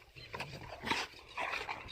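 Several dogs close by pant and whimper in short, breathy bursts, a brief growl mixed in, with no talking.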